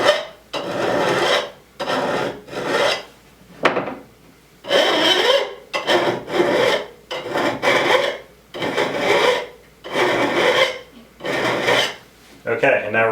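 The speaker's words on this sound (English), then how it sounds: "Again, pull the file towards you. Don't put too much muscle into it." A hand file rasping across the point of a steel throwing knife at a workbench, ten or so loud, close, rhythmic strokes with short pauses between each pull, gritty and metallic.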